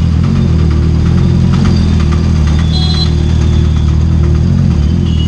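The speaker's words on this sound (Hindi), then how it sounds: "और ऑटो चालू ही है, डग डग डग डग कर रहा है।" An auto-rickshaw engine idles with a steady, loud, thumping putter and a rattly chug, continuous and close throughout.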